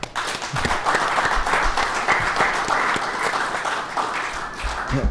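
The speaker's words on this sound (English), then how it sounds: "Let's give them a round of applause." Audience applause at a live podcast recording about hiring and retaining employees, a steady, dense wash of clapping that holds for several seconds at even volume, with faint voices underneath.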